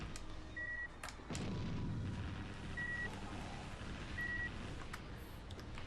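Missile launches and heavy artillery booms from the naval combat game Naval Ops: Warship Gunner, a deep rumbling blast rolling through amid game beeps and ongoing battle noise.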